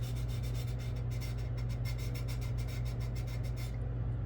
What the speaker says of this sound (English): let's go ahead and let's start sanding this thing